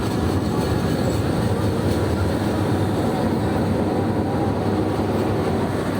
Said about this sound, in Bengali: এখানে ব্রিজের কাজ হচ্ছে, তাই সম্ভবত ট্রেন এত আস্তে আস্তে যাচ্ছে